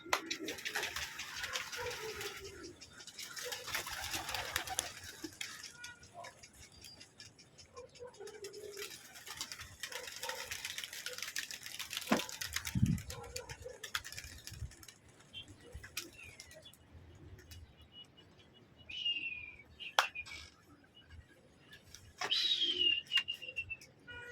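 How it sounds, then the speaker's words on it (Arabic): Pigeons kept for sale coo and flutter in a loft, soft murmuring calls mixed with wing rustles and scattered chirps, a watery splashing patch early on, and voices talking intermittently over the birds. "طبعا يا جدعان زي ما انتم شايفين حمام مطاري"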